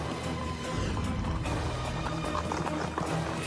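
Horses carrying riders move off along a wilderness trail with a quick run of hoof clip-clops close by, over rustling movement and some faint talk.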